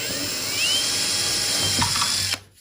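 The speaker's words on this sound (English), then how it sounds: "I'm using a drill bit that isn't a masonry bit" An electric drill with a non-masonry bit bores a hole into plasterboard, giving a steady whirring drone that rises in pitch early on and then cuts off abruptly near the end. No talk is heard.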